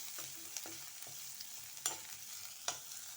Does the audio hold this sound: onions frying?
yes